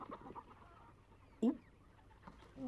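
Chickens cluck faintly in a quiet rural yard in a kung-fu film scene, with one sharper squawk in the middle and softer clucks near the end.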